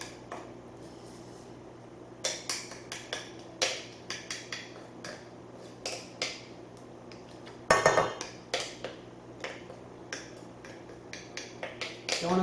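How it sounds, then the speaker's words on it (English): A spoon stirs food in a pot while preparing a healthy dish, giving scattered light clinks and taps against the side at an uneven pace, close up and fairly quiet. "now I'm going to go ahead and use my spoon to just kind of stir up the rest of them."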